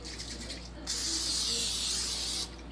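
Cooking spray hisses onto a pan in one steady burst of about a second and a half, close and loud, with faint kitchen background before and after.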